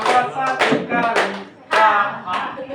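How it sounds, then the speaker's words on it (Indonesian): A group of people at an icebreaking session clap their hands in a few loud bursts, mixed with voices and laughter. "sambil tepuk tangan, tepuk tangannya begini ya"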